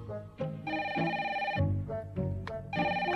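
A telephone rings with an incoming call in repeated bursts of a bright electronic trill, loud and close, with brief gaps between rings.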